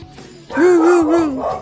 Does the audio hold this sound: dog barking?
yes